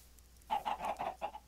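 Chickens in Minecraft, a run of about six quick clucks in an even rhythm, clear and fairly close, with no talk over them.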